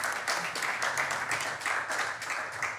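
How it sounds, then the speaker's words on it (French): An audience applauds steadily for a woman about to host a stage segment, continuous dense clapping at moderate loudness with slight swells, no talk over it. "applaudissez d'abord pour elle."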